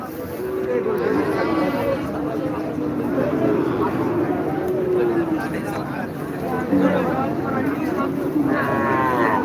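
Cattle low repeatedly in a busy winter cattle market in Taherpur, Rajshahi, their moos rising over a steady background of crowd chatter and people talking nearby.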